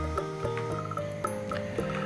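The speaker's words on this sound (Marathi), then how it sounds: "बेडकाचे आवाज वातावरणात घुमतात." Frogs croaking in a monsoon setting, a steady chorus of repeated croaks with tonal harmonics pulsing every half second or so, fairly continuous and mid-level with no talking.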